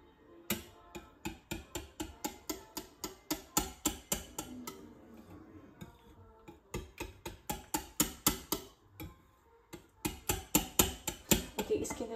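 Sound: beating thick condensed milk in a bowl

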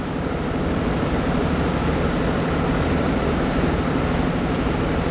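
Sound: ferry ride on the Aegean Sea

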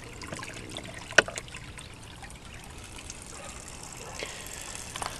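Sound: water flowing from a wash tub valve into a pond

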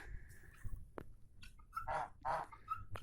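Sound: geese

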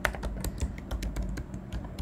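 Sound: typing on a computer keyboard

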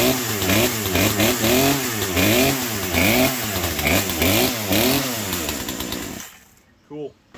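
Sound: chainsaw engine starting and revving

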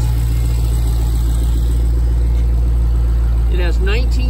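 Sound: 2016 Dodge Challenger SRT Hellcat engine idling

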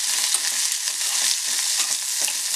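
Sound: thinly sliced onion and green chili frying in a pan

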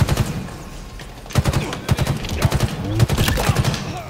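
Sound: gunfire in video game Halo Infinite

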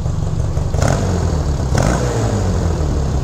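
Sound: 1967 Honda CA77 305 Dream motorcycle exhaust note

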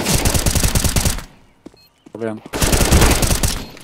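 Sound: gunfire in the video game CS:GO

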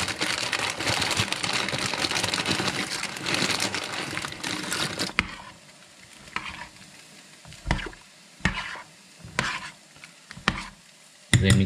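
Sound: pasta added to boiling water

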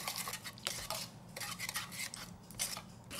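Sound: stirring vinegar and honey sauce in a bowl

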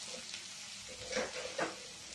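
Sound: tomatoes sautéing in a pan

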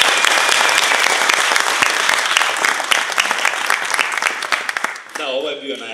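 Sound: audience applause

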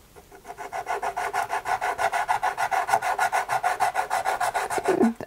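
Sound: soft pastel crayon rubbing on paper

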